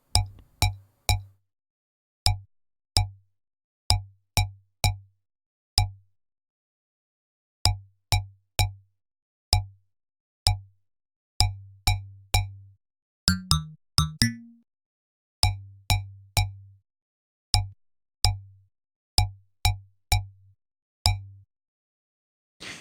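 A percussive synth bass plays short plucked hits in a steady, loose rhythm, each note with a sharp transient and a decaying body that changes length as multiband compressor release times shift; one brief burst of other tones sounds midway.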